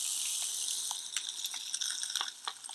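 Coarse salt poured into a container for a peppermint salt scrub, a continuous hiss of grains broken by scattered small ticks and clicks as crystals land, close and moderately loud.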